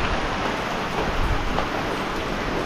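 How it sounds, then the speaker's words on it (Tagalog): Steady rain pours down in a rural province setting, a continuous even hiss with no breaks, close and fairly loud throughout. "Lord, maraming salamat sa ulan na iyong pinagkaloob at nabawasan yung aming init."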